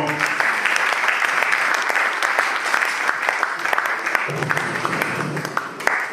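A church congregation at a memorial service claps in sustained, lively applause, with a few sharper nearby claps standing out and a brief shift in the background partway through.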